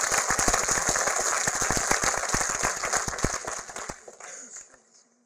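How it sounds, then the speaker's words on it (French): Audience applause at a film premiere in a cinema, a dense crowd of clapping hands fairly close, steady and loud before thinning out and fading over the last second. "Applaudissements,"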